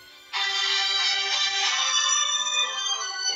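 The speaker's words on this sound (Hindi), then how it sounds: "यहाँ से प्ले साउंड किया तो मोबाइल जहाँ पे भी है भले ही साइलेंट मोड में रहेगा तो भी उसकी रिंग बजने वाली है।" A mobile phone rings loudly on silent mode, set off remotely through a find-my-device play-sound feature. A bright, steady electronic ringtone starts abruptly after a short quiet moment and keeps sounding until the end.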